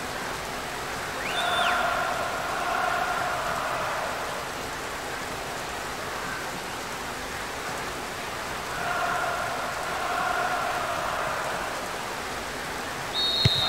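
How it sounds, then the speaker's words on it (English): Steady rain falls in the PES 2023 football video game as a soft, continuous hiss, with faint tonal background sounds rising and fading behind it. "Rain starting to fall here."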